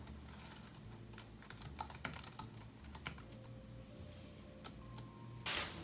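Quick, irregular clicks of code being typed on a computer keyboard for an Arduino sun-tracking project, close and crisp, with bursts of keystrokes and a few louder taps over a low steady background hum.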